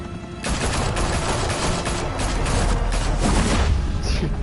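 Dense, loud gunfire in Batman: The Telltale Series, a sustained barrage of overlapping shots and booms filling the whole stretch without a break.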